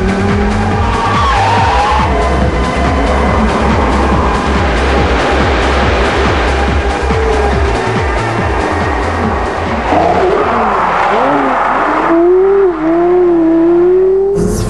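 A Porsche Carrera GT supercar, loud and close, its engine note rising and falling through hard acceleration with some tire noise, ending in a sharp higher-pitched rev.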